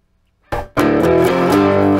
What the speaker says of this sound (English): here's the distortion the way it is now